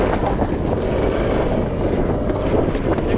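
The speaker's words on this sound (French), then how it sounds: "Il a déjà allumé le moteur pour que le bateau s'enfuit pas." A boat's motor runs out at sea during a storm off Zanzibar. It gives a dense, continuous rumble mixed with heavy wind buffeting the microphone, loud and unbroken throughout.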